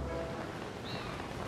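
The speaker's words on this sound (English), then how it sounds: "It's actually raining?" Steady rain falls across an outdoor area in the video game Zelda: Skyward Sword, a soft continuous hiss with no breaks and no talk.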